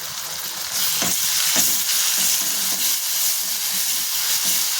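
A spoonful of ginger, garlic, green chili and coriander paste frying with golden-browned onions, giving a loud, steady close sizzle with intermittent stirring scrapes throughout.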